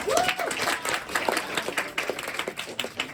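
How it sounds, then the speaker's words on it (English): Modest group of attendees at a community safety meeting in a conference room clapping together, a short burst of close, uneven hand claps with a brief vocal whoop near the start. "Give a round of applause, y'all."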